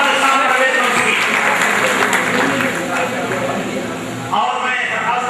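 Audience in a hall applauding an honoured guest at a community program, a dense, loud wash of clapping for several seconds with a brief shift near the end.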